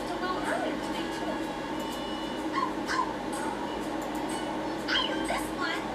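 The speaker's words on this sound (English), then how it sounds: "That was my dog Cisco. He's been barking every time" A dog gives several short barks and yips scattered across a steady hum of background noise, with voices talking through the scene.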